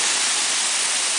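Water of a waterfall rushes steadily, a dense, continuous broadband roar that stays loud and even throughout with no other sounds.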